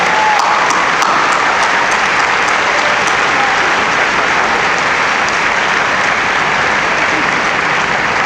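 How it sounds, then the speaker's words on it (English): Dense, loud applause from a large audience at a university graduation convocation, a continuous roar of clapping filling the whole stretch with faint voices beneath. "Now you give them a round of applause for the love, support, and encouragement that have brought us to this celebration."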